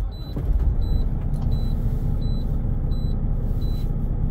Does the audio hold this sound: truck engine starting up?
yes